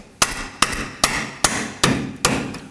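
Six sharp hammer taps driving a front lower control arm bolt into place on a 2018-2024 Toyota Camry, evenly spaced metallic knocks close up, each ringing briefly, with no talking.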